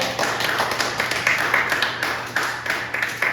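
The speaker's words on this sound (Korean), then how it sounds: "우리 예배를 받으신 주님께 박수 한번 드리겠습니다." Congregation clapping during a middle school Sunday church service, a steady burst of many hands close by with a faint hum underneath.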